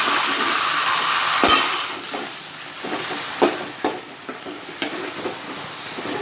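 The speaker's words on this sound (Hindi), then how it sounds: "इसे मैं प्याज के साथ थोड़ी देर तेल में भूनूंगी।" Shrimp with curry leaves and golden onions fry in hot oil for a Konkani curry, a loud hissing sizzle that eases after a sharp clatter, followed by scattered stirring clicks and scrapes.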